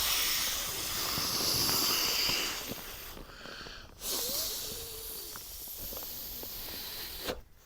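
Air hisses steadily from the valve of an inflatable sleeping mat at a wild camp on Longlands Fell in heavy rain, a close, loud rush that briefly cuts out, then resumes more softly amid small rustles.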